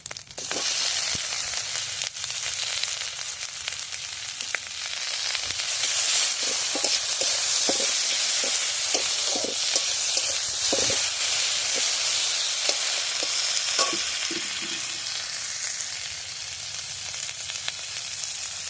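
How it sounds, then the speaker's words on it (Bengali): Chopped tomato hits a pan of fried ginger for a bata fish curry, giving a loud, continuous hissing sizzle with intermittent stirring clicks and scrapes, with no voices. "আদাটা একটু ভাজা ভাজা হয়ে গেছে, এবার আমি ওর মধ্যে দিয়ে দেবো টমেটো কুচি।"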